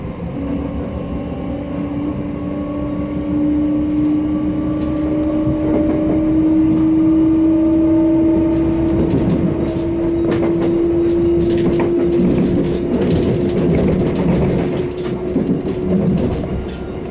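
Train running between London Victoria and Clapham Junction, a steady loud rumble and rolling rail noise with a rising motor whine throughout, plus faint clicks over the joints, no talk heard.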